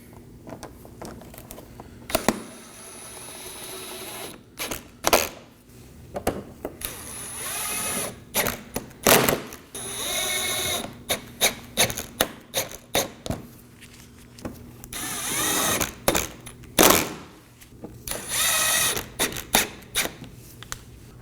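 Cordless power tool whirring in short repeated bursts while six 10mm fasteners are snugged down under a 2020 Toyota Corolla during a cooling fan replacement, with quiet clicks and handling noises between runs.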